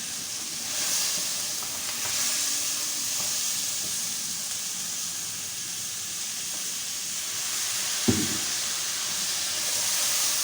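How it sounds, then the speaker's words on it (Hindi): Two chopped tomatoes go into a pan of mutton curry, which sizzles and hisses steadily and loudly throughout. A single soft thud of ingredients landing is heard near the end, with no talking. "और 2 टमाटर काट के डालेंगे।"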